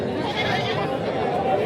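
A goat bleats at a goat market in Sangola, a steady wavering cry held through the whole moment, close by over market hubbub.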